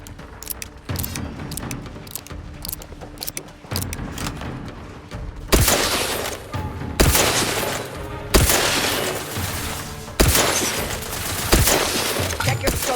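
Gunfire rattles through a firefight in the video game The Outer Worlds, with repeated loud bursts and booming shots growing heavier in the second half, mixed with a voice and game sounds.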